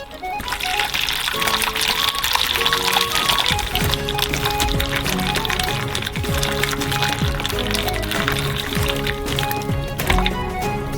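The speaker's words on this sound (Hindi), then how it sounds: "स्पंज केक को नरम करने के लिए निचले प्लेट में गर्म पानी डालेंगे" Hot water pours from above into a lower baking tray beneath a large sponge cake, making a continuous splashing, gurgling stream that runs steadily and close for the full stretch, with no one talking.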